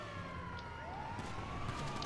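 Police siren in the video game GTA 5, a wailing tone rising and sweeping steadily over continuous background game noise, moderately loud and sustained throughout without voices.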